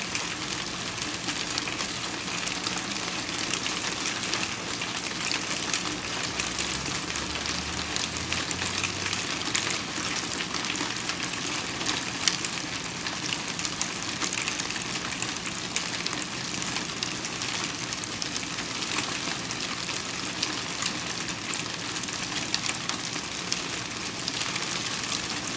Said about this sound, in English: Some of it's hail.